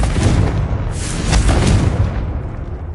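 A Confringo fire spell bursts in the Hogwarts Legacy video game, a loud, sustained rumbling blast that swells in the middle and slowly fades, heard alone.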